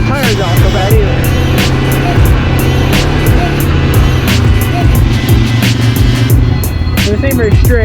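An ATV rides along a dirt trail with a loud, steady engine drone close by, and bumps and rattles come through as it travels.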